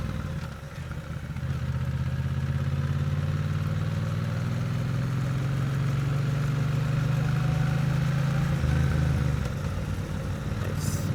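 A motorcycle engine runs steadily near the listener through a smooth gear shift made with a preloaded shift lever, a continuous mid-pitched drone that rises and eases slightly as the gear changes, with no talk.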